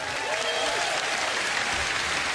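A studio audience at a live-streamed morning talk show applauds a guest, with dense, sustained clapping that holds at an even level for the whole stretch while a voice talks faintly underneath.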